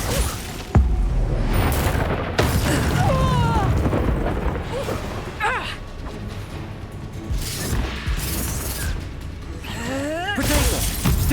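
The Confringo blasting spell goes off repeatedly in a Harry Potter video game, heard as booming bursts and whooshing magical effects layered over dense, busy game sound.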